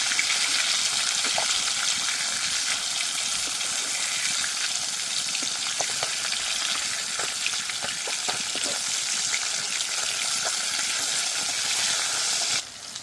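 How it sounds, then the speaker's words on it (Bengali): Hot oil sizzles and crackles steadily around fish pieces frying in a pan, a dense continuous hiss with occasional pops, close and fairly loud, with no talking. "মাছগুলো এক পাশ ভালো করে ভেজে নিয়েছি, এইবার উল্টে দেব।"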